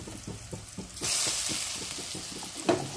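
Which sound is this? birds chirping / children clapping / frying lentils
frying lentils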